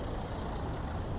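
Traffic and buses on Oxford Street in the town of Malmesbury, a dense, steady wash of nearby engine rumble and road noise at moderate level, with no speech.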